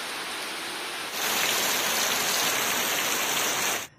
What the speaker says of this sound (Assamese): চাৰিওফালে দি আছে এতিয়া কেৱল বৰষুণ